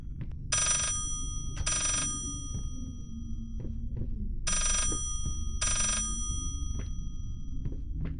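Telephone ringing in the horror video game Layers of Fear, two pairs of bright double rings separated by a pause, over a low droning ambience with faint thuds.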